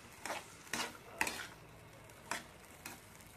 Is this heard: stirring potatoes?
yes